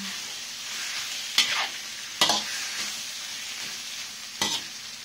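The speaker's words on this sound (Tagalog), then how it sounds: "ilagay na natin ang squid. Ating halo-haluin." Squid stir-fries in a pan with garlic and ginger, giving a steady close sizzle broken by three sharp scraping stirs of a utensil.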